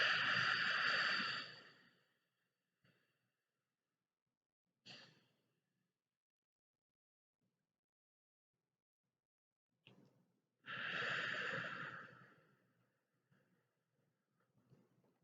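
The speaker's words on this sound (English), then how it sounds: "notice that we're going to breathe out for a long time" A slow breathing exercise: a long audible exhale opens, then near silence with a few faint breaths, before a second long, airy exhale near the end, close and soft with no speech.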